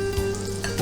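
Potatoes lightly frying in a pan, a short burst of close sizzling with a faint scrape of stirring and a steady hum underneath.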